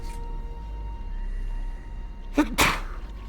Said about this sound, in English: excuse me, I gotta sneeze.